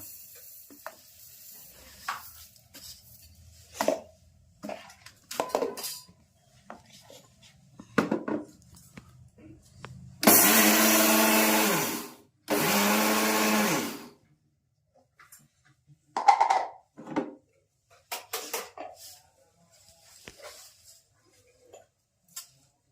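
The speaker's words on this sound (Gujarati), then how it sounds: "મિક્સરમાં નાખવાનો" A mixer grinder whirs through black sesame seeds for kachariyu, two loud, short grinding bursts separated by a brief pause, surrounded by quiet kitchen clatter and taps.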